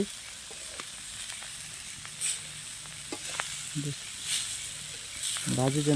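Soft, steady sizzling of grated coconut frying in a pan for pitha, with occasional stirring scrapes and clinks, fairly quiet throughout.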